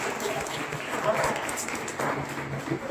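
A church congregation at a children's service in an Assemblies of God church claps to welcome the preacher, a moderate ragged patter of hands that swells and dips slightly over a few seconds.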